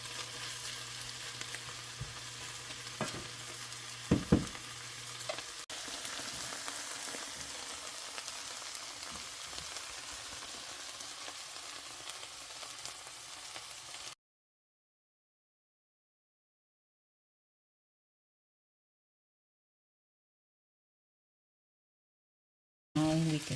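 Chayote squash with sardines and egg simmering in a pan, a soft steady sizzle with a couple of louder clatters. The sound then cuts to complete silence for several seconds before a brief burst at the end.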